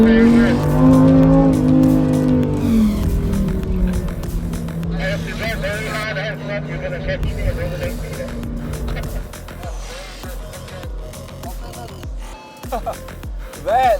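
Lamborghini Huracán STO with its 5.2-litre V10 on a race track, loud howling revs rising and falling with downshift crackles and tire noise, heard from inside the car with a voice talking over it.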